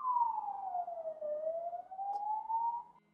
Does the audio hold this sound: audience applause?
no